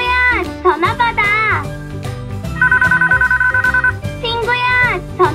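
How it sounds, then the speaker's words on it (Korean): Telephone ringing in a children's cartoon, a steady buzzing trill of rapid repeated bell pulses in the middle, surrounded by a child's sung and spoken voice and music. "친구야, 전화 받아!"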